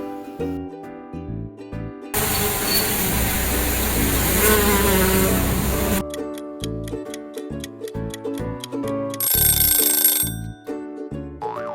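A steady insect buzz, like a bee, drones for several seconds between stretches of light plucked, ticking music.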